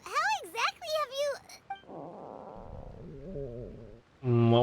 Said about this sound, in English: That would be my stomach growling.